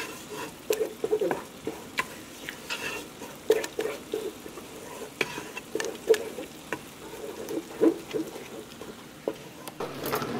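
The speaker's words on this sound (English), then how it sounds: "Again, I'm just gonna stir all that in there." A spoon scrapes and knocks around a pot as butter is stirred into finished grits, giving irregular soft clicks and thuds with a faint simmering background and no talking.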